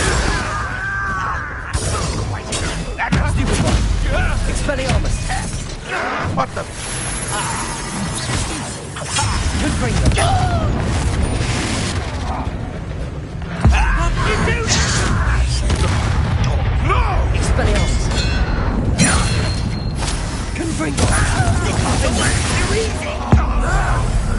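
Fire spell blasts from Confringo and other combat spells in Hogwarts Legacy: a dense, loud barrage of booming explosions, crashes and whooshes rolls on continuously, with voices calling out over the fighting.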